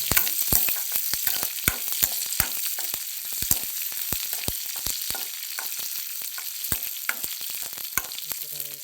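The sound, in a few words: tempering sizzling in pumpkin pulusu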